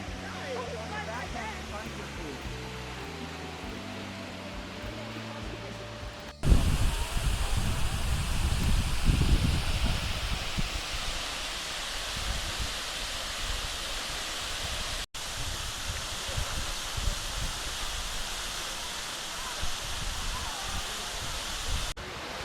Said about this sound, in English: feel the spritz from the waterfall